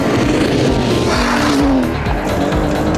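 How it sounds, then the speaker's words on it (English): An Aston Martin DBS with a 510-horsepower V12 roars loud and close, a dense continuous engine note with a rising pitch sweep in the middle of the stretch, and no talk over it. "The sheer sound of that V12 warming up"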